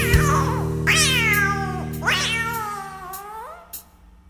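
A human voice imitates a cat, giving two drawn-out, wavering meows close and loud, preceded by a short hum.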